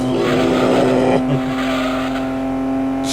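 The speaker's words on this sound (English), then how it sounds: "Listen to that growl on that engine" A 1960s roadster with a giant front-mounted motor in Gran Turismo 2 growls loudly in a steady, sustained drone, with tire squeal rising briefly near the start before the engine tone holds on alone.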